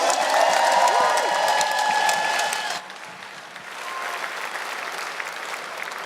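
Loud applause from a large crowd with cheering at a fight event in Halifax, Nova Scotia, fades to a softer, scattered clapping and murmur.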